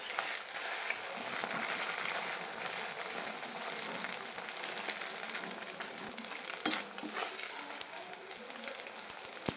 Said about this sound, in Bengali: এগুলোকে আবার তেলে ভাজতে হবে এগুলো আমি তেলে ভেজে নেব